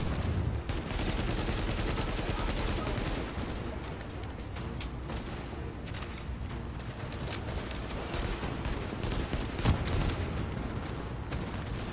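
Gunfire in The Division video game: a dense, continuous barrage of shots and impacts over a busy firefight background, steady and moderately loud throughout with no clear pauses.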